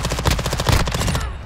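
A decoy grenade in Call of Duty Modern Warfare 2 fires off fake gunfire, a loud rapid burst of machine-gun-like shots in even rhythm for over a second before cutting off.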